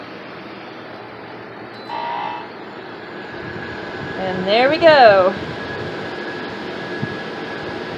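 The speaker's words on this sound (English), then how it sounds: "Sorry about the fan noise." Portable air conditioner in a 1974 Silver Streak trailer hums steadily with a fan whir, while a short spoken remark and a brief rising electronic tone break in midway.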